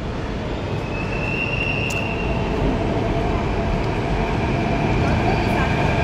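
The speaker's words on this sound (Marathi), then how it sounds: "चला बघा आपली मेट्रो आली" A metro train bound for Versova arrives at a Mumbai station, a loud steady rumble of the train with a faint high whine in the middle.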